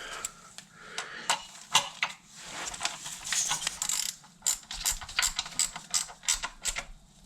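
A ratchet tightening bolts during a cam belt replacement on a Ford Escort Cosworth, with rapid clicking bursts in short repeated runs, close and fairly clear, with no talk.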